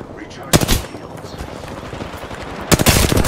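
Video game gunfire rattles out in two loud, rapid bursts of automatic fire during an online battle royale match, over a busy game soundscape.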